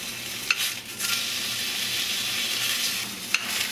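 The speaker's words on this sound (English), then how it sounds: "In goes our pork belly. You're gonna wanna get all 4 sides nice and seared" Pork belly sears in a very hot pan with a steady, close sizzle that holds evenly throughout, broken by two sharp little pops or clinks, one near the start and one near the end.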